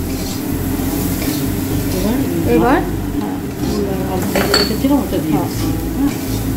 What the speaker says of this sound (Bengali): নুন হলুদ দিয়ে এবার আর একটু কষিয়ে নেওয়া হবে।